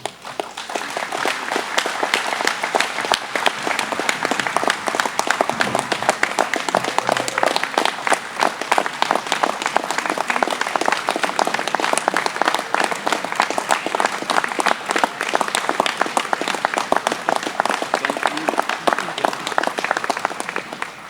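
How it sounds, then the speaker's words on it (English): A long, dense round of applause from a large audience at an electric cooperative's annual meeting, steady and full for about twenty seconds with no talking over it. "I think we need to give him a big round of applause"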